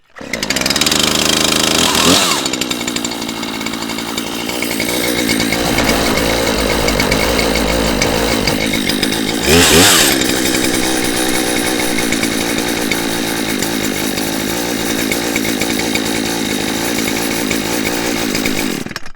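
Chainsaw with the choke set halfway, running loud and close while cutting a tree, a steady buzzing engine drone with two brief revving surges, one near the start and one midway.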